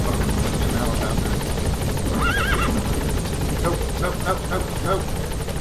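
A helicopter in the video game Metal Gear Solid V drones loudly and steadily throughout, with a horse neighing briefly over the rotor noise and a voice talking intermittently.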